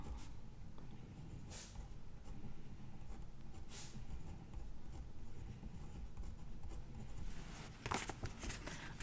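A pen writes in a paper planner, with soft close scratching strokes and little scrapes scattered over a quiet background, faint throughout.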